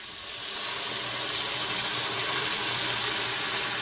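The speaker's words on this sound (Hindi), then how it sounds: "मैं पानी दे रही हूँ।" Water poured into a frying pan of paneer masala, giving a steady sizzling hiss that swells slightly after the first half second and holds close and loud throughout.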